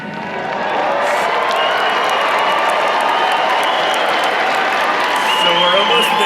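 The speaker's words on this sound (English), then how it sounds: "cheer for our graduates as loudly as you can" A convocation audience cheers and applauds for graduates, a dense, steady wash of clapping and cheering from a large crowd that swells quickly and stays loud throughout.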